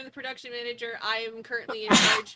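A single sharp sneeze bursts out near the end, right after someone talking close to the microphone.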